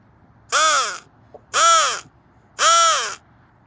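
Crows give three loud, harsh caws, evenly spaced about a second apart, close by and alone against a quiet outdoor background.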